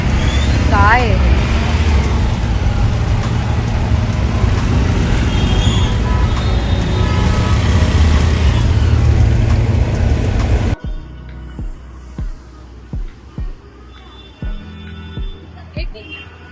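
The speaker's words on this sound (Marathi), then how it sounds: "शाळा भरायच्या आणि सुटायच्या वेळेला ट्रॅफिक बघा" Road traffic at school opening time, a dense steady roar of cars, buses and trucks passing close by for about ten seconds before it drops to a much quieter scene.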